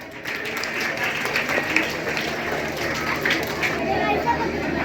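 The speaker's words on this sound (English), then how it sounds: "Please put a big round of applause." An audience at a school Independence Day celebration applauds in steady, even clapping that carries through the whole stretch, with crowd murmur underneath.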